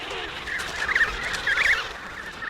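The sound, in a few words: penguins and penguin chicks calling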